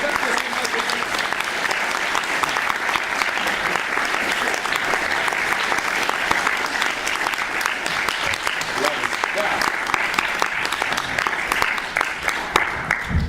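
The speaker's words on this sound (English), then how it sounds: "And a huge round of applause for my players." Sustained, dense applause from a large audience keeps going at an even level, with some voices mixed in underneath.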